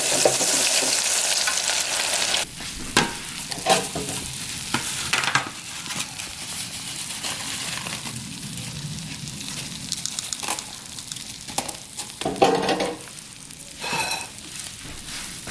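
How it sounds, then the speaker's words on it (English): Seasoned chicken wings for lemon pepper wings hit hot oil with a loud burst of sizzling, then settle into a steady crackling deep fry with intermittent popping bursts, close to the microphone. "we just go drop them in here for about 7 minutes"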